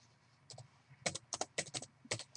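Keys clatter on a computer keyboard as a file name is typed, a quick close run of light clicks in short bursts, quiet and alone.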